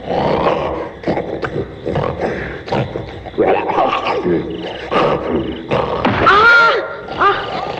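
An animated jungle bear growls and roars loudly and continuously, with rough, throaty bursts and louder bellowing peaks near the end, close up and without pause.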